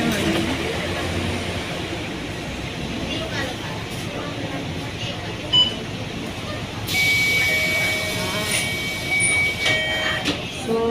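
MRT train passing near a street in the city, a broad steady rumble of rail cars with a brighter hiss joining later, heard under ongoing conversation.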